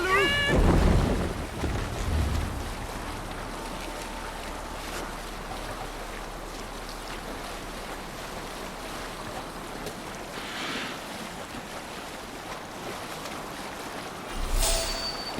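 Ship under sail on open water in the Assassin's Creed Valhalla video game, a steady wash of waves and wind noise throughout with a louder splash near the start and another near the end.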